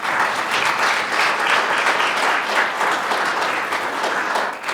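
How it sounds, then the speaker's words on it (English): An audience at a conference session gives panelists a round of applause. The clapping is dense and steady for about five seconds, with no talk over it, then eases off at the very end. "Can we give a round of applause for our panelists?"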